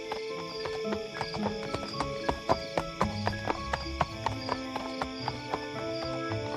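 A prince's horse clip-clops along at a steady trot, the even hoofbeats close and distinct over a tonal background.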